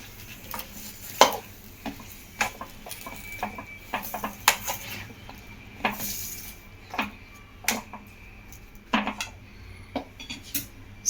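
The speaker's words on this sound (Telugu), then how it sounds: "పచ్చిమిర్చి, టమాటాలు ముక్కలు వేసేసేయండి. వేసేసి ఒకసారి కలబెట్టేసుకొని" Green chilies and tomato pieces tumble into a pan and are stirred with a metal spoon, giving irregular clanks and scrapes against the pan over a faint background sizzle.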